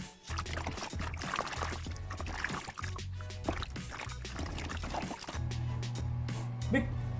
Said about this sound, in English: you're going to rinse it off about 2 to 3 more times, okay, until the water is clear